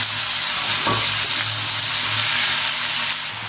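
Sliced ridge gourd and potato fry in a hot pan with a continuous loud sizzle, while a utensil stirs them with a brief scrape near the start.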